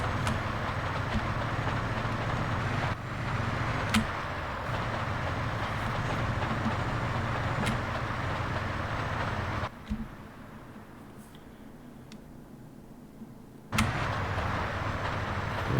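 A freight train in GTA San Andreas runs with a steady, heavy rolling rumble and occasional sharp clanks. The sound drops away briefly to a quieter hum, then the full rumble returns.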